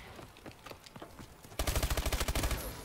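Rapid burst of automatic weapon fire from a gun in Call of Duty: Advanced Warfare, loud and close with an even rhythm of about a dozen shots, following a quieter stretch of softer game noise.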